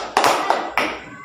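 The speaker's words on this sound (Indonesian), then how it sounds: "Belajar tepuk yang biasa kita lihat." A Scout tepuk pramuka clap pattern in a classroom lesson: three sharp, close handclaps at an uneven rhythm, each ringing briefly into the room.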